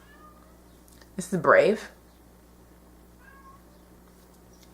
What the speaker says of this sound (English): You hear my cats in the background.